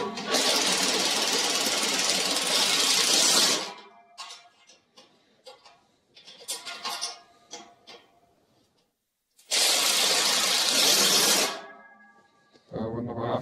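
A power screwdriver drives a screw to fasten a counterpart onto a homemade firewood bundling device, with loud whirring bursts at the start and again near the end, and clicks, handling noise and brief talk in between.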